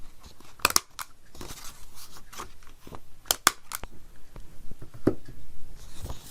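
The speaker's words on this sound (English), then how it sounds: "now I'm going to round the corners on this" Corners of a paper writing card being rounded with a corner punch or cutter: several sharp, crisp snips and clicks at irregular intervals among soft rustling and handling of the paper, close and fairly quiet.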